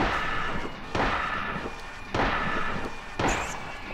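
Gunshots in the survival horror game Silent Hill, about three heavy booming shots spaced roughly a second apart, each with a long ringing decay under a dark droning background.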